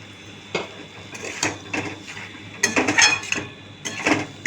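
Vegetables stirred in a pan with beet salt, a utensil scraping and clinking against the metal in several close, irregular bursts, with no talk.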